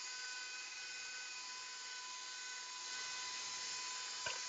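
A motorized pasta roller hums steadily as homemade pasta dough for spaghetti feeds through it, a constant whirring drone with a brief clunk near the end.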